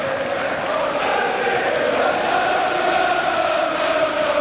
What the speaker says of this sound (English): The crowd have responded to that more positive passage of play by Ipswich Town